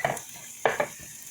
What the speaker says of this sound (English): You're gonna let that saute down a little bit.